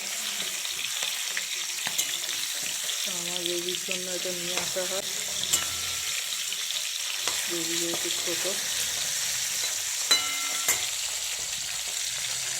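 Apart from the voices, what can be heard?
singhi fish frying in oil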